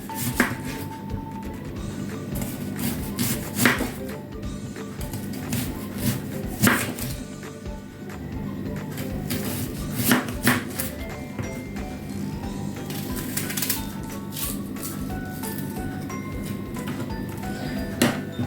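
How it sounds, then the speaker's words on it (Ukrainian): A knife chopping an onion into rings on a board in a home kitchen, irregular sharp cuts spaced a few seconds apart over a low background hum, fairly close and without speech. "А зараз беремо ось цибульку і нам потрібно нарізати, зараз я вам покажу колечки такі."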